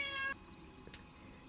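A pet cat gives one clear, drawn-out meow close by, followed by a brief faint chirp, with no talking over it.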